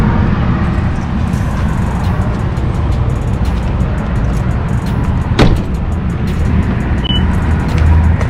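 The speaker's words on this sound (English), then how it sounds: "sorry for the highway noise." Steady, loud highway traffic roar near a Walmart, a constant broadband rush of passing vehicles with one brief sharper passing sound midway.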